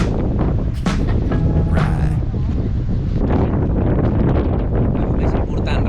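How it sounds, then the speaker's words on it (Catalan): Strong wind at the Cape of Good Hope buffets the microphone in a loud, constant roar with gusty rumbling throughout, while people talk underneath. "Fa fred, fa vent, però no és terrible."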